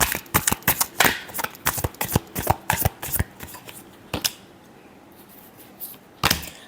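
Tarot cards riffle-shuffled in a run of sharp, rapid flutters, then a pause and one last brief shuffle, close and fairly loud with no talking.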